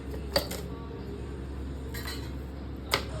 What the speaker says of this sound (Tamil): மூடி போட்டு மூடி வச்சிடணும்